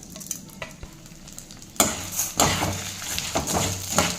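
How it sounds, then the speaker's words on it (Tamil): Chana dal drops into hot oil for idli podi and starts to sizzle, with a metal spoon scraping and stirring the pan in several sharp strokes over a steady frying hiss. "அதே எண்ணெயில கடலைப்பருப்பு சேர்த்துடலாங்க"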